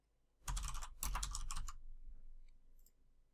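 A quick burst of keystrokes on a computer keyboard as a seed is typed in, close and soft, followed by a couple of faint clicks and near silence.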